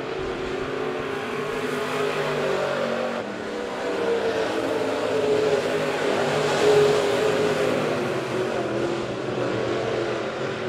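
B-Modified race cars lapping Monett Motor Speedway, a steady loud roar of engines holding throughout with a slight swell midway as the pack passes, no voices over it.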